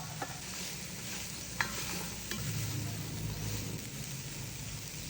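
Small pieces of cauliflower and broccoli cook over low heat in a pan, a quiet continuous sizzle with a few light stirring taps, faint and steady with no talking.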